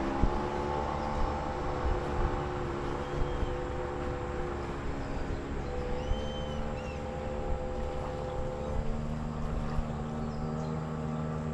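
Boat motor running on the Araguaia River, a steady distant drone with faint tonal hum, continuous and fairly quiet throughout.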